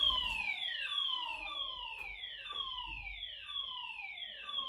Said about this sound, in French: alarme incendie